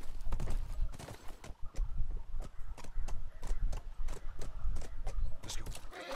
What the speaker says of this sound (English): Horsey, horsey, horsey.